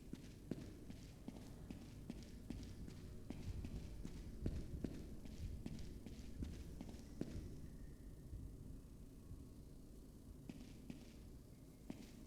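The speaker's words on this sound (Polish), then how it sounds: "słyszałem jakby bicie serca" Low, steady thumping heartbeat in a dark survival video game, a repeated pulse through the first seven seconds that then fades and returns faintly near the end, with no talking.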